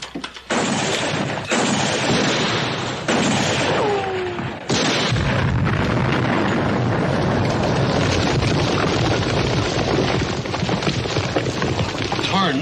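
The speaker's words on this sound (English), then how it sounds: "Tarnation was that? Dynamite." Dynamite detonates in a series of loud booms in an old Western setting, the blasts falling one after another before a long rumbling roar, with voices heard faintly.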